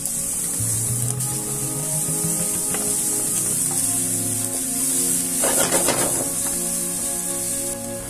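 An onion fries in oil in a pan with a steady, close sizzle and hiss. A short burst of stirring rises near the end, and there is no talking.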